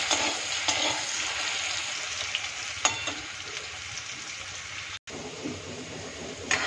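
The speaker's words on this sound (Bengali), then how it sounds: "আলুগুলোকে একটু অল্প হলুদ আর অল্প লবণ দিয়ে একটু ভাজা করে নেবো" Potato pieces seasoned with turmeric and salt sizzle steadily in hot oil, a dense continuous frying hiss with occasional stirring scrapes, close and without talk.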